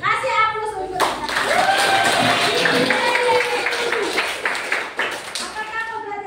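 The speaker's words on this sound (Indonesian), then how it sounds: "Kasih aplaus untuk kita." A classroom of students at a senior high school bursts into sustained applause, steady clapping lasting several seconds while a teacher speaks over it.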